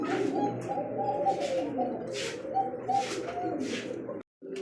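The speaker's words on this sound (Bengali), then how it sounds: "এক জোড়া কবুতর লাল টকটকে এক জোড়া কবুতর জার্মান শিল কবুতর" A pair of bright red German shield pigeons coo in repeated, throaty rolling phrases, close and steady for several seconds, with a brief drop to silence near the end and no voices.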